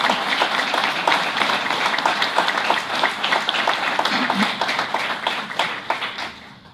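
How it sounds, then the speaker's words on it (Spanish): An audience at a university lecture event in La Plata gives warm applause, dense steady clapping from many hands that fades slightly toward the end. "Aplausos."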